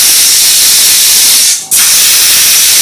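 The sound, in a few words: pressure cooker releasing steam while cooking beef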